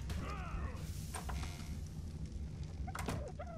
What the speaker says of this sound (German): Die Tür klemmt!